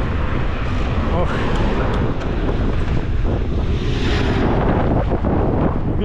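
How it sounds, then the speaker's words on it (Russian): Strong wind on a Crimean coastal road near Yalta in February buffets the microphone in a continuous loud roar, steady throughout with rushing gusts and no pauses. "Ветер капец тут."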